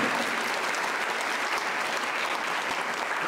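An audience at a university public lecture gives a translator a sustained round of applause, thick, even clapping from many people throughout, loud and unbroken by speech.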